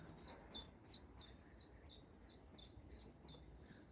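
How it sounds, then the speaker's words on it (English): A small bird repeats a bright chirping call about ten times at a steady rhythm in a spring garden with blackthorn in blossom, faint and somewhat distant, over quiet background. "the birds are singing"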